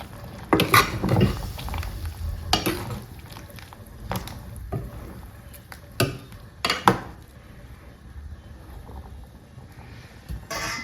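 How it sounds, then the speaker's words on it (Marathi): Fish curry simmering in a pot over low gas is stirred and turned over, with scattered metallic clanks and scrapes of a spoon against the pot between quieter bubbling stretches. "फक्त इथे फिश बॉईल होत आहे छानपैकी. फक्त एकदाच त्याला खालीवर करून द्यायचं."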